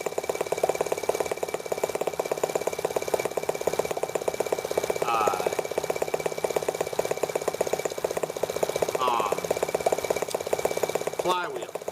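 A T26 engine runs steadily at idle, a continuous mid-pitched mechanical hum with faint rattling, while a person talks briefly over it near the end.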